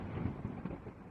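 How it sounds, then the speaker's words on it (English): A thunderclap sound effect rumbles through a stormy scene, a deep, loud, rolling boom with a couple of swelling peaks over a low rain-like wash, with no voices. "A thunderclap had made the librarian scream."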